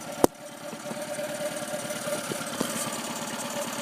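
A troubled engine held at very low RPM, unable to rev higher without cutting out, runs with a steady low drone and faint knocking pulses, with a sharp click near the start and another partway through.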